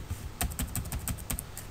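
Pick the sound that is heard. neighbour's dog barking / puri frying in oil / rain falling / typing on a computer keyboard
typing on a computer keyboard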